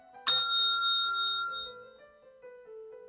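A single exam-timing bell for a food inspection practical test, one bright struck ring near the start that decays slowly with long sustained overtones, close and clear with no talking.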